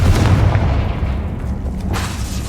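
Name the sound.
Confringo blasting curse explosion in video game Hogwarts Legacy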